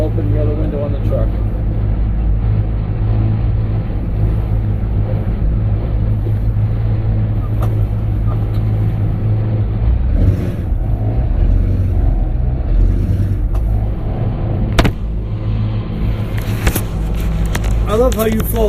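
A pickup truck engine rumbles steadily from inside the cab while driving, a constant loud low drone with small bumps and rattles throughout.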